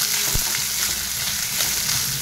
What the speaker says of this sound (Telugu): ఇవి కొంచెం బాగా ఫ్రై అవ్వాలండి